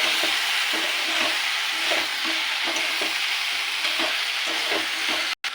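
Spices with turmeric and cumin sautéing for a broad bean lentil dish, a constant close hiss of frying with periodic soft stirring scrapes, steady and moderately loud, no voices.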